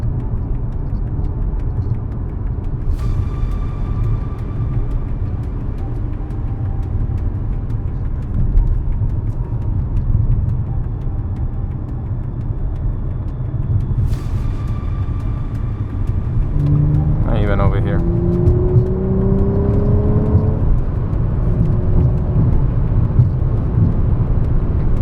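A fast car drives along Encinal Canyon Road near the Pacific Coast Highway, its engine giving a steady low rumble from start to finish, with brief tonal whines partway through and a rising engine note near the end.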